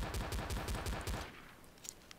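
Rapid gunfire from original Counter-Strike pistols in Garry's Mod, a fast, evenly spaced burst of sharp shots lasting about a second, followed by quieter clicks and small noises.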